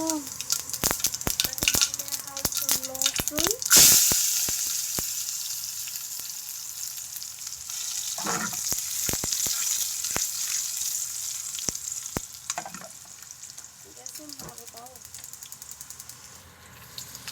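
Garlic and chili frying in hot oil, a continuous crackling sizzle with sharp pops and clicks, loudest early then easing, with faint brief voice sounds in places.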